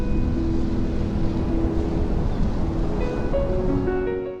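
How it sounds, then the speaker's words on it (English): Muffled waterfall sound effect, a dull, low roar with the high end rolled off, steady and loud for several seconds before tapering slightly at the end. "So for that, I'm going to use that waterfall effect, but have a muffled modifier on it."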